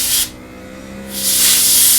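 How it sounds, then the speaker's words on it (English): An airbrush sprays paint onto a scale model Messerschmitt 109K, two loud close hissing bursts separated by a short pause. "But as he's spraying,"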